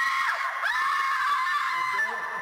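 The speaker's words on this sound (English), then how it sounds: "It's just screaming, basically." An actress screams during a horror trailer shoot, a sustained, piercing cry held for a couple of seconds with wavering pitch, loud and close.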